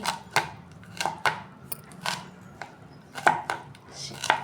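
Kitchen knife chopping fresh fenugreek (methi) leaves on a board for methi paratha, a series of sharp, close knife strikes at an uneven rhythm with short pauses, heard alone.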